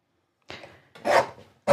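Fabric quilt panel edges being trimmed, three short, close rasping cuts separated by brief pauses, dry and scratchy with no talk.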